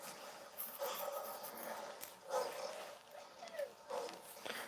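Zombie dogs growling and snarling in a Resident Evil movie, heard as rough, repeated canine growls and whimpers at moderate level over the film's ambient soundtrack.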